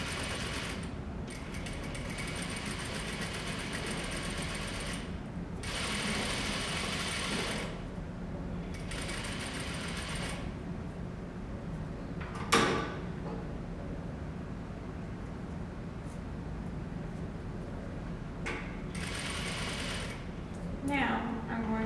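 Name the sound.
sewing machine stitching a straight seam with back stitching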